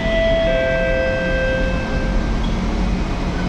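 Singapore MRT train at Expo station, a steady loud rumble with tonal whines and squeals layered on top, close by and continuous, and no voices.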